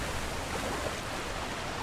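A waterfall in the video game Conan Exiles gives a steady, soft rushing wash of water that stays even throughout, with no voices over it.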